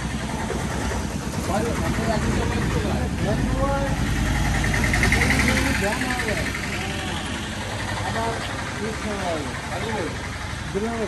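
A homemade petrol-powered vehicle that works as a van, rickshaw and motorbike idles with a steady, rough engine rumble, close by, while people talk over it.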